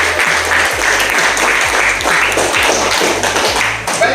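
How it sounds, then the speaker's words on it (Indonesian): Classroom applause from a group of students, a dense, loud, continuous clapping that holds steady for a few seconds, with rhythmic tapping underneath. "Tepuk tangan yang meriah."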